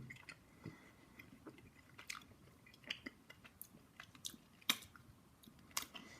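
Soft, close chewing of chocolate from a Minions surprise egg: quiet, irregular bites and squishy mouth sounds spread over several seconds, with no talking.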